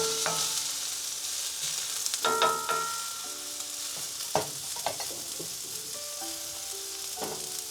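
Onions frying in a pan alongside steak, a steady close sizzle punctuated by repeated scraping and clinking as they are pushed around with a utensil.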